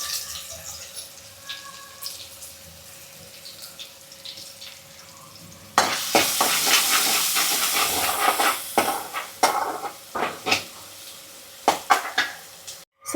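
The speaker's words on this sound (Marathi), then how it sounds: "तेल गरम झालं आहे आता इकडे मी तेल टाकते हो कांदा टाकते आहे फोडणीसाठी" Onion dropped into hot oil for tempering a Konkani-style cashew curry: after a quiet stretch, a sudden loud, sustained sizzle and hiss erupts, punctuated by sharp utensil clatters against the pan.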